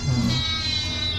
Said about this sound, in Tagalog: naghihingi yung pusa